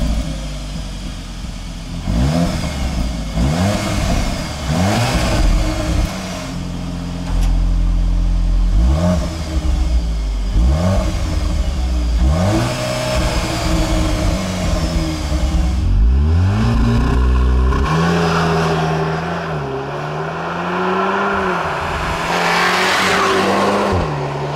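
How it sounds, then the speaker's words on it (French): A 310 hp Cupra Formentor with four exhaust outlets revs hard through repeated accelerations, its engine note climbing and dropping between gear changes, loud and close, with tyre noise and no talking. "on va écouter la sonorité du moteur"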